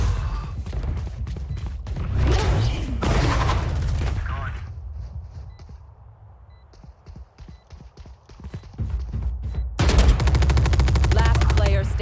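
Gunfire in the shooter Valorant comes as rapid bursts of shots, loud and close, with a quieter stretch of clicks and steps in the middle before heavy firing resumes. A voice is heard faintly.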